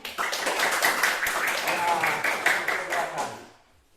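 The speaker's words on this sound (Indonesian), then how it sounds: "Ya, tepuk tangan untuk si PM" Classroom applause from students after a school science experiment showing that sound travels through solids via a plastic-cup telephone, a dense steady patter of many hands lasting several seconds before fading out.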